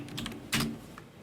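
A few quick keystrokes on a computer keyboard, soft clicks, with one louder key press near the middle, close and alone, with no talking.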